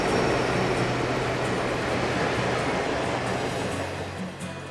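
A train passing through a canyon, a loud continuous low rumble and roar of rolling wagons that stays close and steady before easing slightly at the end.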